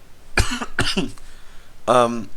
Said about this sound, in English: I hope you don't mind the coughing.